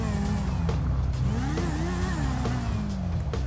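An old Honda Supra X drag motorcycle engine revs hard and close, pitch sweeping up and down through several throttle blips over a steady, loud exhaust drone.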